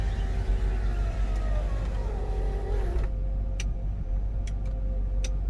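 A power window motor on a 1995 Ford Mustang GT SN95 5.0 whines steadily as the glass slowly rises, then stops, leaving a few faint clicks over low background rumble.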